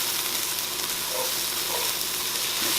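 Spices stirred into vegetables for a chicken banana stew in a hot pot, a loud, steady sizzling hiss with faint scraping underneath, close and continuous, no talking.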